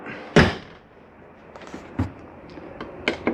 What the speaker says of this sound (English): To our right, I can close this door now.